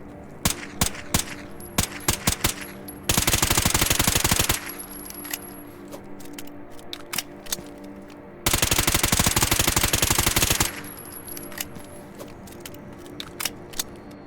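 Suppressed 9x18 hollow-point pistol shots from Stalker Gamma crack out singly in uneven bursts, broken by two sustained loud rattling stretches, with no talk.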